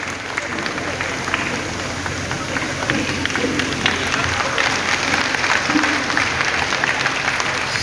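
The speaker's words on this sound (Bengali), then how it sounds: "আমরা হল থেকে তুমুল করতালি চাইছি।" Dense, sustained applause from a crowd filling a hall at a political party gathering in Dharmanagar, a steady roar of many hands clapping at an even loudness throughout.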